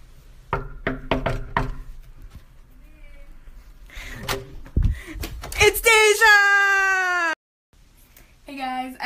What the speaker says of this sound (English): So I'm gonna knock on the door and see if she's actually here.